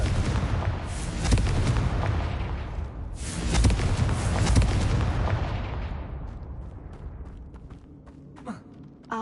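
A Confringo fire spell explodes in the Hogwarts Legacy video game, giving a loud booming blast with rumbling bursts that swell and then fade into a quieter tail of crackles.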